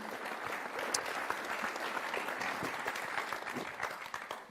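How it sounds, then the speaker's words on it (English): Audience applause at a triathlon press conference for the 2022 Collins Cup, a steady wash of clapping from a room of people, moderately loud and continuous for several seconds with no talk over it. "A round of applause, please, for what is match number 9."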